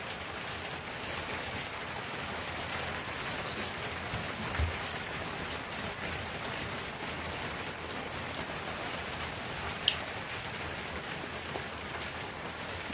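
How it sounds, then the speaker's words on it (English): Heavy rain pours down steadily, a dense even hiss of drops on surfaces with no voices, only a couple of faint isolated knocks. "I'm actually just really enjoying listening, listening to the rain."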